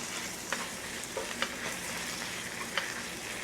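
Onions and garlic paste sizzle steadily in a pan, a continuous close frying hiss with occasional soft pops and stirring scrapes, no talking.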